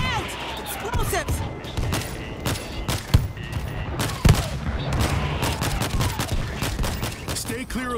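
Auto turrets in World War Z fire rapid bursts of gunfire, loud repeated cracks in an uneven rhythm over battle noise, with voices shouting in between.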